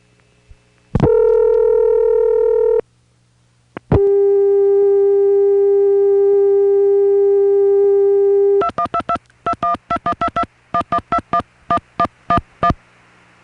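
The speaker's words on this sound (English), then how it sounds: "MCI used switches made by the Dan Ray Company that had a funny dial tone." Long-distance telephone switch from MCI, made by Dan Ray: a steady odd-pitched tone, a short break, then a second sustained dial tone, followed by a rapid run of dialing tone pulses.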